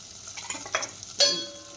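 Okra and green chillies sautéed with turmeric and salt, stirred now and then with a spoon: faint sizzling broken by a few brief scrapes and a sharper clatter near the end.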